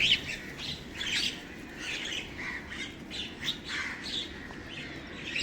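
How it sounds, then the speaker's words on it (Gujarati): Several birds perched in a tree squawk and chirp repeatedly in short overlapping bursts, fairly close and lively, over a faint low background hum with no talk. "પક્ષી આવી ગયા છે બીજા ઝાડ ઉપર બેઠા"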